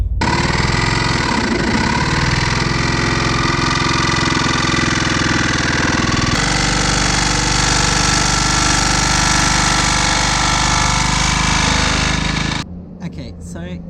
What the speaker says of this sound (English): I've had to turn the speed of the blade up. That seems to cut through a lot better without shaking it so much.